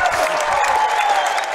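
A pickleball crowd at the 2019 USA Pickleball National Championships on championship court gives a standing ovation, with loud, dense applause and cheering close by for a short, unbroken stretch.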